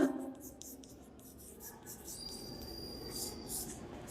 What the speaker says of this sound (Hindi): तो आइए अपन लिख लेते हैं इसका भी आंसर।